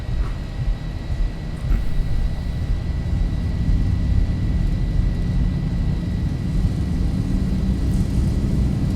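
Boeing 737-800 jet engines in a flight simulator spooling up to takeoff thrust, a loud steady broadband roar with deep rumble that holds constant throughout, with no talking.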